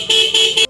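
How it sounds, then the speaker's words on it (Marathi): A newly fitted car horn honks three times in quick succession, the blasts loud, close and bright, ending abruptly in near silence. "हॉर्न बसवून दिलीत बघा"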